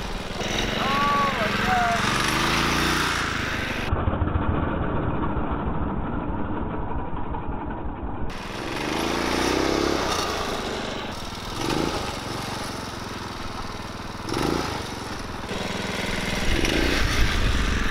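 A home-made five-speed motorized bicycle engine runs steadily throughout, its motor drone rising and falling as it revs and idles, fairly loud and close, with a brief drop partway through.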